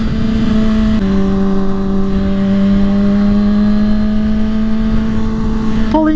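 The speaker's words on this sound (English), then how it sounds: "Let me just follow this V6 Mustang, because he's pulling pretty hard for a V6." A V6 Ford Mustang pulls hard through city traffic, its engine note climbing steadily in a strong, droning acceleration heard close behind the rumble of a 2022 Kawasaki ZX6R motorcycle, loud throughout with a brief shift near the end.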